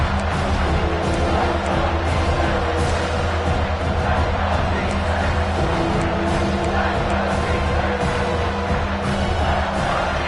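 Loud, continuous roar of the Alabama stadium crowd on third down in the video game College Football 26, South Carolina vs Alabama, a dense wash of voices holding steady throughout, with a commentator's voice mixed in.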